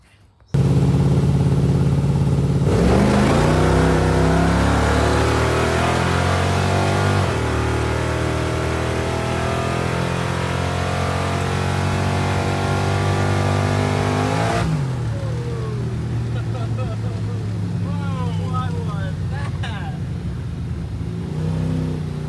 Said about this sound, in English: I'm going to throw some drag racing clips up here, and you can just see some of the hits we've made in this thing in the past.